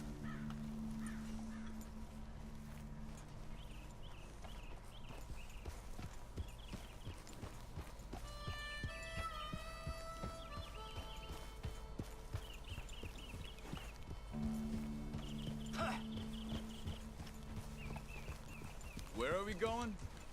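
Horse hooves clip-clop steadily in Red Dead Redemption 2 as a horse walks along, a faint and regular patter under game music and people talking.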